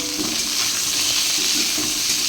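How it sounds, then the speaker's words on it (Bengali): Pointed gourd (potol) frying in hot oil after fish, a dense, even sizzling hiss close by and fairly loud, continuous throughout with no talking. "মাছ ভাজা তুলে নিয়ে পটলটা ভেজে নেবো আগে।"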